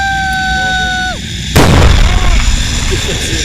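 A single loud gunshot from a hunter hidden in autumn woods cracks sharply after a stretch of steady tonal sound, then rings out into a noisy, lingering decay.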